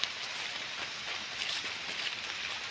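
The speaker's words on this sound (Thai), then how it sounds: "ฝนกระตกเลยอยู่" Steady rain falls outdoors in a rural Thai setting where bird traps are being checked, a continuous even hiss of drops on surfaces that holds at a constant level throughout without a break.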